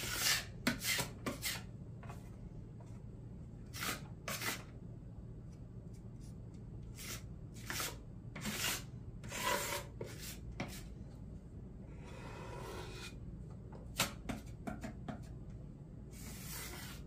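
Venetian plaster is rubbed and scraped onto a furniture top in quiet, irregular strokes, with short rasping bursts separated by brief pauses and a faint background hum.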